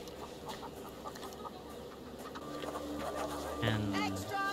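Clucking chicken in a Sherlock Holmes detective video game, a few soft calls rising out of a busy background of game ambience and music, growing a little louder toward the end.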